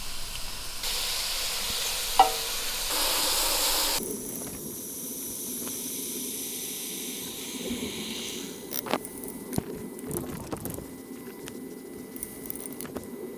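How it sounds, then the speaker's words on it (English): Onions with salt and green pepper frying over medium-high heat, a steady hiss and sizzle that swells briefly at the start, then occasional stirring scrapes and clicks over the quieter frying. "Fry on a medium-high heat for 10 minutes, stirring occasionally"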